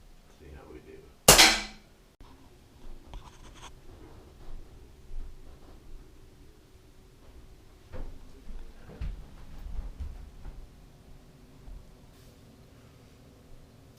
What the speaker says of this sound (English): I'm thinking I'm gonna shoot for the 6 on the outside of this little bullseye here.